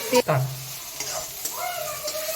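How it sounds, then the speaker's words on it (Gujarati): Finely chopped capsicum, chillies, cabbage and carrots sautéing in hot oil, a steady close sizzle with occasional stirring clatter. "ઝીણી ઝીણી ચોપ કરી લીધેલી છે અને આપણે તેલમાં સોતે કરી લઈશું"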